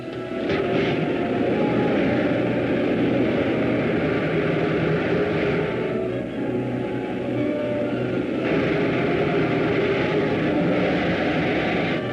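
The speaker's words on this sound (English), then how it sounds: "Safety belts fastened. Fire pilot jets. Fire main jets." A rocket's pilot and main jets fire in a 1952 sci-fi serial, giving a steady, loud, dense roar that holds without a break throughout, with no speech over it.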